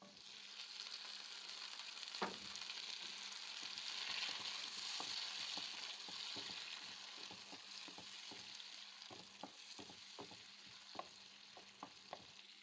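Onion and garlic fry in melted butter with a steady, fairly loud sizzle, broken by scattered clicks and taps of a utensil stirring the pan.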